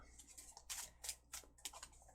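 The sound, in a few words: tarot cards being shuffled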